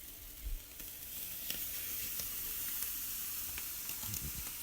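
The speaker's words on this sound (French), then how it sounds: "On va griller un poulpe au barbecue." Marinated octopus grills on a barbecue, giving a soft continuous sizzle and hiss with scattered small pops and crackles, fairly faint and close, with no talking.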